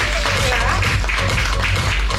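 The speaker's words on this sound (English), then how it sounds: "Let's give them a round of applause." A crowd applauds continuously at an endorsement signing event, a dense, steady wash of clapping mixed with cheers and voices for the whole short stretch.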